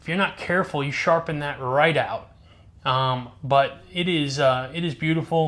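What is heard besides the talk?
No everyday noises stand out.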